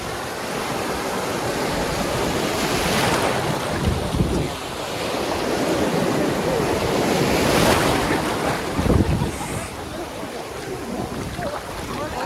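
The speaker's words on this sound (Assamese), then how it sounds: "তলৰ পৰা ঢৌ আহে" Ocean waves roar and break in repeated surges close by, mixed with wind buffeting the microphone, with faint voices of people bathing in the sea in the background.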